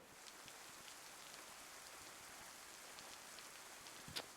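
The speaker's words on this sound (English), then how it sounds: "It's perfect because it's raining." Steady rain falls in the DayZ video game, a dense, even hiss of drops on surfaces that holds at a constant moderate level, with one brief sharper tap near the end.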